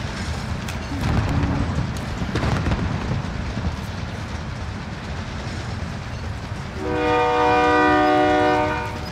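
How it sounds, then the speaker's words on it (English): In a multiplayer shooter game, a train rumbles and rattles along its tracks, then its horn blasts in one long, loud chord near the end. "Come on, ride the train."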